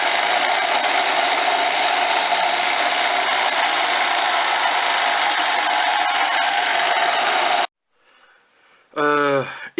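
A hand drill bores into a small Viking-style sun or shield pendant held between the fingers, giving a steady loud whirring grind that stops abruptly, followed by quiet and a brief spoken voice.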